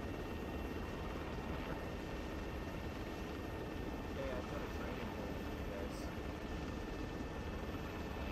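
Low, steady helicopter rotor and engine drone fills the background at a training night, continuous and fairly faint throughout.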